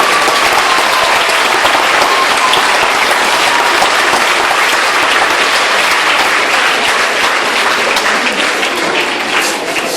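Loud, sustained applause from a large audience, dense clapping filling the room without pause and fading slightly near the end.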